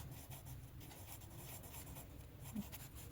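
Marker or chalk strokes rub across a classroom board during a math lesson, a faint continuous scratching that is steady and close, with no voices.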